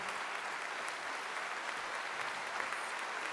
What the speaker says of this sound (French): Merci d'applaudir Madame R.